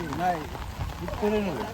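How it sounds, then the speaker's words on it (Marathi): Heavy monsoon rain falls steadily across a flooded Konkan village and its fields in 2024, a continuous wash beneath people talking nearby. "जोरदार पाऊस"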